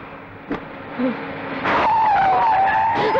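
A vehicle skids while being driven, with a sustained, squealing tire screech rising over engine and road noise, loud and close, with no one speaking.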